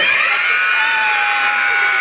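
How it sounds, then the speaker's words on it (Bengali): An audience at a puppet show at a book fair shouts loudly in one sustained, high, blended roar of many voices, close and steady throughout. "বন্ধুরা, জোরে একটা চিৎকার দাও।"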